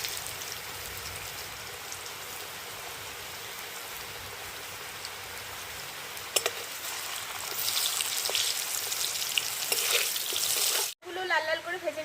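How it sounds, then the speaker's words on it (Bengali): Potato strips fry in oil, making a continuous hissing sizzle that swells louder partway through, with brief crackles and a sudden cut near the end, close up. "এবার আলুগুলোকেও ভেজে নেবো লাল লাল করে"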